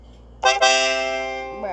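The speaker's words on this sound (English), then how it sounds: "Concertina." A Samsung Galaxy A24 'Concertina' notification plays a short bright reedy chord that starts abruptly, holds for about a second and then fades, with a brief second note at the end.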